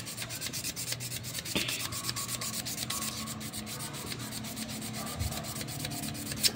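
A worn shaft from a Hanabishi table fan is sanded by hand in quick, steady rubbing strokes, a close, faint, even rasp with no talking.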